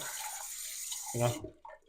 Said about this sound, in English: then water kind of splashes down on it, gets to the bottom